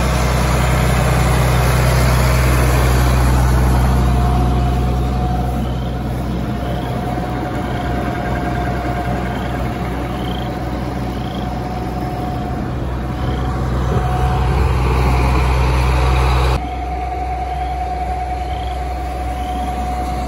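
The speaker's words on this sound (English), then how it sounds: "So we have the 7810 out here hooked up to a booster pump." A 7810 tractor powering a booster pump in an open field drones in a steady, loud low-pitched engine hum with a constant tonal whine, holding unchanged throughout apart from a slight drop late on.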